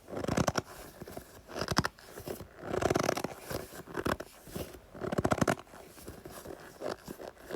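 Close, crunchy squeezing sounds in several bursts, each a quick run of crackles like packed snow compressed, with short pauses between.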